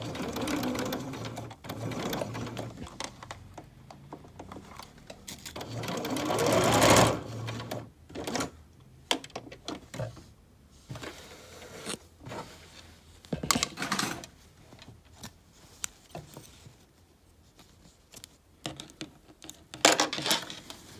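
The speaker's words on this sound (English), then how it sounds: "I'm just stitching the pleats down so that we don't have to worry about them again" A sewing machine stitches down the pleats on a shirt cuff extension in bursts of fast mechanical whirring, with pauses and small handling clatters between runs; no one speaks.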